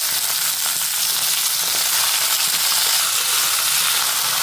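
Onions and punarnava leaves fry in a pan, a loud, constant sizzle and hiss that continues without a break.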